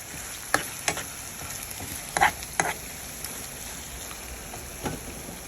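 Saltfish with vegetables stews in a pan under a soft background sizzle, broken by a few sharp spoon clicks and scrapes against the pan, close by and with no speech.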